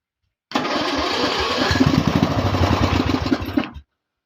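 A lawnmower engine is pulled over and briefly fires, a loud close chugging rumble lasting about three seconds before cutting out abruptly into silence.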